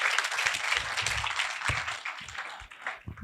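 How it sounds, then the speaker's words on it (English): An audience at a panel discussion for International Women's Day claps in a round of applause, a lively, uneven patter that swells and thins toward the end, with no talk over it. "we can have a round of applause for ma'am."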